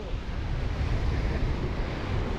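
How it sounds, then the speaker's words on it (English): Stormy sea surging through a deep rock pool on the wild Scottish coast, a dense continuous roar of churning water, loud and near, with wind noise over it. "It's crazy to see that churning cauldron of water right there."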